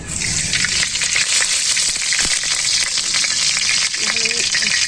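Oil sizzling loudly in a hot kadai while meat pulao cooks, a dense continuous hiss with a few utensil knocks and a brief metallic clink partway through.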